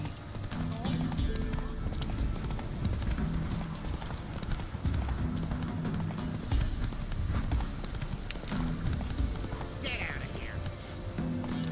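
A horse gallops in The Witcher 3 video game, rhythmic hoofbeats pounding steadily under in-game voices and ambient sound.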